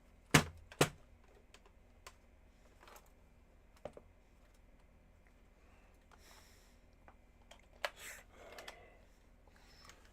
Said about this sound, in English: I want to know if I can if there's even a way to fix this stupid keyboard